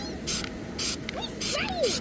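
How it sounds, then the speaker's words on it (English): Four short bursts of Flex Seal aerosol spray hiss in a quick rhythm, close and loud, with small squeaks between them. "I'm spraying"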